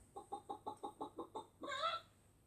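A chicken clucking sound effect played by a Google Home smart speaker as part of a joke: eight quick, evenly spaced clucks followed by one longer, drawn-out squawk, all close and clear with no voices.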